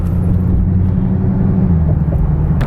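A Procharged Dodge Challenger Scat Pack is driven along, its engine a loud, steady low rumble heard from inside the cabin, with no talk.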